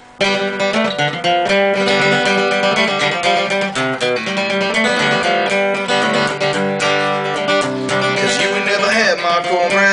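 A dense, bright strummed acoustic guitar riff playing continuously at full volume, with ringing chords and busy picking throughout.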